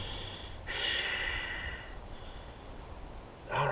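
Breathing during a yoga pose: a couple of audible nasal inhales and exhales, fairly close but soft, with a sharper snort-like breath at the end.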